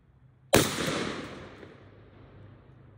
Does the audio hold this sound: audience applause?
no